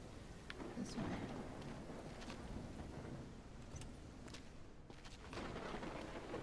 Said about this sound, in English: It's very rainy.